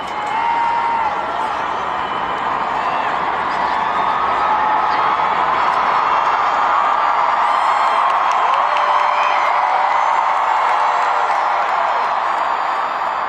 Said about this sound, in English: The dude is just standing there and the crowd is erupting